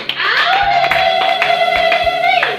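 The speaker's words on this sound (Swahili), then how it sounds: "Chapa makofi na vigelegele." A church congregation claps and ululates together, a sustained wavering high trill riding over sharp, irregular hand claps, close and loud in a short burst.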